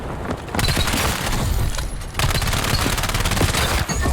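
Loud, dense automatic gunfire from an FPS shooter video game rattles almost without pause, in rapid overlapping bursts with a brief lull near the start and another partway through.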